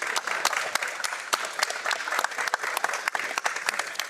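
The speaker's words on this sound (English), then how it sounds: "I want to give everyone here a round of applause for helping us." A room full of people claps for partners at an event about energy-company apprenticeships and veteran hiring; individual sharp claps stand out within steady, moderately loud applause.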